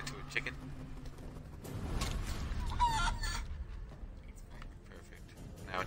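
A chicken in the video game Divinity: Original Sin 2 clucks and squawks amid game effects and background rumble, while a person talks over the action.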